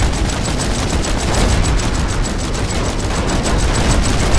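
Heavy rapid gunfire rattles continuously in the Planetside 2 battle, shooting at vehicles, loud, close bursts in a dense rhythmic stream with booming undertones and no talk.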